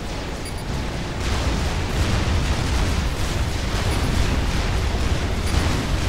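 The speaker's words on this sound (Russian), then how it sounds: "Так, бомбардировщики что-то бомбят." Bombers pound targets in the real-time strategy game Supreme Commander, a loud continuous roar of overlapping explosions and booms with no gaps.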